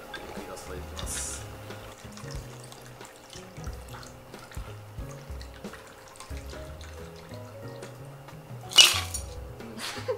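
A cocktail is poured from a shaker into a glass, a soft liquid trickle with light clinks of glass and metal, while people talk over it during a bartending lesson.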